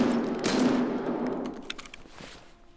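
Gunshots from a proper firearm in Escape from Tarkov, a booming report with a long echoing tail fading out, followed by a few fainter distant cracks.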